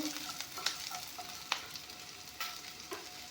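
Ingredients for chickpea and pea ghugni frying in a pan, a soft, steady sizzle with several sharp stirring clicks and scrapes, fairly quiet and with no talking.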